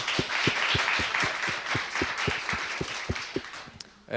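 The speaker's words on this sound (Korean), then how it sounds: "말씀 전해주신 선교사님께 다시 한번 큰 박수 한번 드릴게요." A congregation at a church youth leaders' retreat applauds a missionary speaker, a dense wash of clapping with a few sharper individual claps standing out, steady and moderately loud before tapering off at the end.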